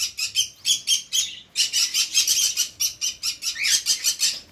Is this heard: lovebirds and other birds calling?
yes